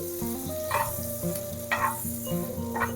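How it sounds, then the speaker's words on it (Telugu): Buttered bread toasting in a pan for a potato sandwich gives a steady, close sizzle, with a few short scraping or pressing bursts spread across the clip and no one talking. "ఇలాగా ఈ సైడ్ కూడా ఇలా కాలుస్తే సరిపోతుంది"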